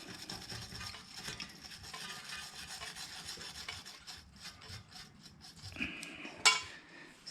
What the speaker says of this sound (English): I'm just going to hit it with the little wire brush a bit.